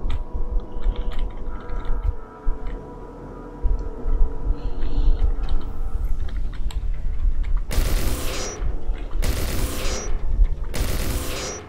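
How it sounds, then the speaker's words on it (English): Turret gunfire from the video game Wasteland 1 Remastered, with three loud, sharp bursts near the end over a steady bed of game noise, after a quieter stretch of clicking and mechanical sounds. "I love how there's a turret at the top of the citadel that can't hit me."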